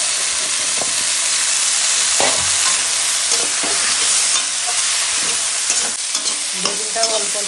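Eggplant pieces fry in hot oil for a tengra fish curry, giving a loud, continuous sizzle with occasional scraping and stirring clatters of the spatula against the pan and no talking.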